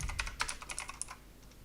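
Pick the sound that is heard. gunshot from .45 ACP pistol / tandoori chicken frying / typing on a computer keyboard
typing on a computer keyboard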